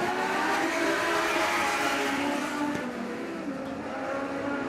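Lightning sprint cars race back to green at Merritt Speedway, a dense, continuous roar of engines at full throttle, loud and steady as the field fires out of turn four, with a faint squeal near the end.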